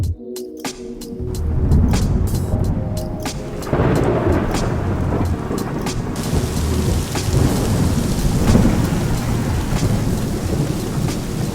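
Heavy rain pours down in a dense, loud, continuous hiss, with a deep rumble of thunder building beneath it and a few sharp early drips before the downpour fills in.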